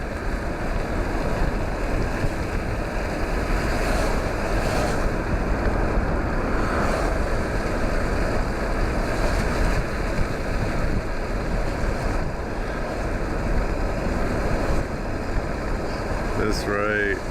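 Continuous rushing water of the Columbia River at Longview, Washington, in wet weather, with gusting wind buffeting the microphone, loud and close, and a faint sharper rattle near the end.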